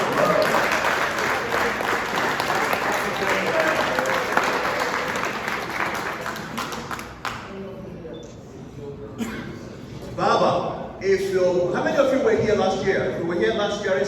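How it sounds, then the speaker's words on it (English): An audience at an awards reception following a golf tournament bursts into loud, sustained applause of many hands for about seven seconds, then it dies away and people speak and murmur in the room. "Please, a round of applause."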